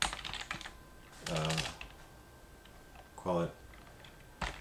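Typing code on a computer keyboard, a soft run of quick clicks and taps heard close up, with bursts of speech breaking in between the keystrokes.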